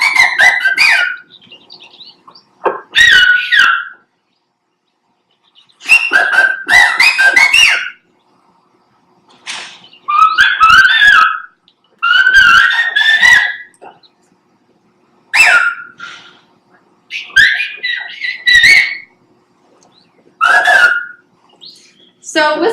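A man named Marcelino whistles a message in a traditional whistled language, sharp, high, warbling phrases in short bursts separated by silent pauses, loud and close.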